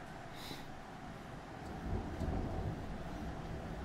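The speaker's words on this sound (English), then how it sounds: "Do you hear this lightning here?" Thunder rolling through the game world of Legends of Aria: a steady, broad rumble that swells louder about halfway through and holds there, with no talking over it.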